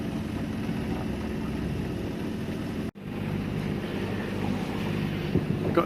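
A sailboat's motor drones steadily beneath wind buffeting the microphone, with a brief dropout midway before the low engine hum returns slightly stronger as the revs increase.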